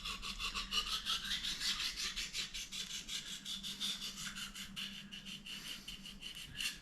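A knife blade is stroked across an oil stone in quick, rhythmic back-and-forth passes, a soft gritty rasping repeated steadily at close range and fairly quiet.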